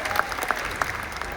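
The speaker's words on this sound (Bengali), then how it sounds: "সো একটা জোরে হাততালি হোক" Crowd of factory workers clapping at a company factory day event in Bangladesh, a dense, even wash of applause with a few sharper individual claps standing out.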